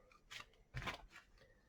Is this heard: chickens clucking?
no